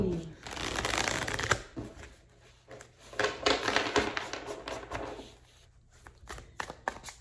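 Tarot cards being shuffled by hand in close, crisp riffling bursts that rise and fall in waves, with brief pauses between handfuls.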